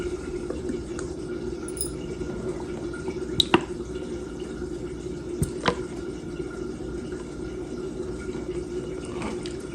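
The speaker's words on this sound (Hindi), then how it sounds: "इसमें हम लेमन जूस भी डालेंगे, 2 टेबल स्पून।" Two tablespoons of lemon juice are poured into a marinade for desi chicken drumsticks. A few soft drips and splashes stand out over a steady low background hum, with no talking.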